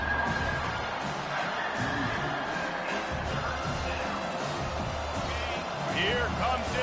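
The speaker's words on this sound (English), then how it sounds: "Here comes this home crowd as the defense tries to get off the field on 3rd down." Home crowd roaring at a football game as the defense faces third down, a dense sustained wall of cheering and shouting from the stands with a commentator talking over it.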